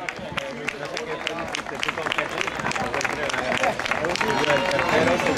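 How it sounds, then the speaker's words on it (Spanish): Crowd clapping at an award ceremony for a road race, the Two Leagues run in Leganés, steady dense applause mixed with cheering and voices, growing slightly louder toward the end. "Un aplauso para ellos,"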